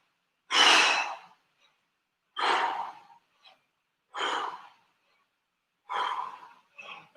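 Four forceful, rhythmic exhalations of a breath-squat exercise, each a loud breathy burst about every two seconds with silence between, one followed by a short extra puff.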